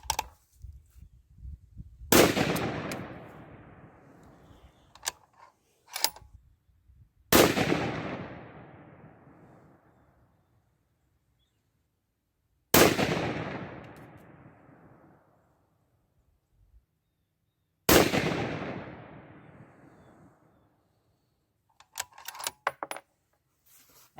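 Four loud, sharp rifle reports from a 6.5 PRC Bergara B-14 HMR firing 140gr SST loads at a shooting bench, each shot ringing out and decaying over several seconds, spaced about five seconds apart, with faint handling clicks between.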